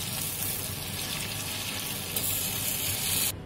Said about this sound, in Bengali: পরপর তেলে দিয়ে ভেজে নেব। একটু লাল লাল করে আমি এগুলো ভেজে তুলে নেব।